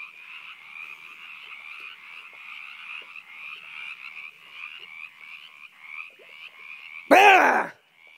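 Frogs croak loudly and continuously in a steady pulsing chorus, close to the microphone, ending with a brief loud burst near the end.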